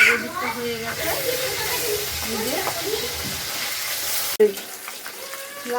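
Rohu fish sizzles loudly in hot oil with a steady frying hiss under a woman's speech, broken by a sudden sharp clatter as the fish is flipped in the pan.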